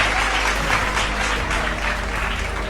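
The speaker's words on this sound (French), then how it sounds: "Acclame fort pour Jésus." A church congregation cheers and applauds in praise of Jesus, a loud, steady wash of clapping and voices filling the whole stretch without pause.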